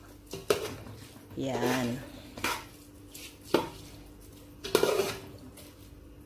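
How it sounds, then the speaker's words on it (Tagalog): Rice is stirred and sautéed in a pot for arroz caldo, metal spoon scraping and knocking against the pot in irregular strokes with some sizzling between them; a voice speaks briefly. "Igisa rin po natin yung rice"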